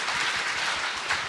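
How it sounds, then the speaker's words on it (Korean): Audience applause at a Korean ceremonial gathering, a steady broadband patter of many hands clapping throughout, moderately loud and sustained without a break. "여러분 박수 좀 부탁드리겠습니다."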